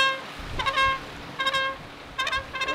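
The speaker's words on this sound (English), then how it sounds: "I got a bugle!" A bugle blown outdoors in French Polynesia, three short bright blasts spaced about a second apart, each a brassy held note with a slight pitch slide, loud and close.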